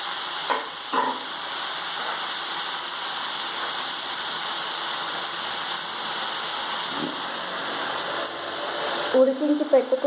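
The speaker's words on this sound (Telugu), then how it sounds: "ఆనియన్స్ మంచిగా ఫ్రై చేసుకుందాం" Onions fry in a pan for a colocasia curry with a steady, close sizzle that holds for the whole stretch, joined by a few soft utensil knocks near the start and a clatter of stirring at the end.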